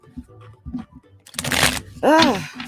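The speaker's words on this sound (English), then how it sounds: "Let me shuffle just a little bit more." Tarot cards are shuffled in quick riffling bursts between short stretches of a woman's speech, with sharp papery flutters in the middle of the clip.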